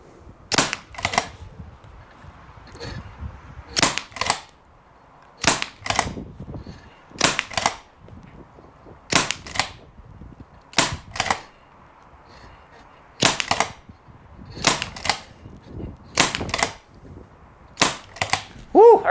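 Someone fires a full magazine at a Target Forge steel target. The close, loud shots come in pairs and small clusters, with short gaps and some longer ones, over about twenty seconds.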